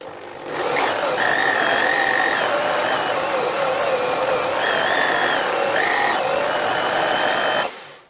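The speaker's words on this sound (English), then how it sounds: "Let's drill a little bit deeper." A drill on a vintage Karger lathe runs steadily and loud for several seconds, with a high screeching tone appearing in bursts as the bit bites into round metal stock.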